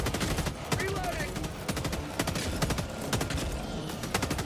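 A gun in the video game Helldivers 2 fires rapid repeated shots, sharp cracking bursts in quick automatic strings, loud and close, with scattered game sounds in between.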